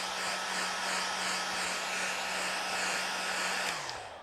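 Hair dryer blows steadily over a watercolour painting, a loud close whine with a faint wavering rhythm as it moves, its motor pitch dropping slightly near the end.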